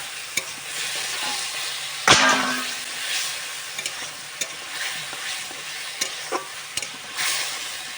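Fish curry with turmeric sautéed in a pan, a constant soft sizzle broken by repeated scraping and tapping of a spoon stirring, with one louder clatter early on.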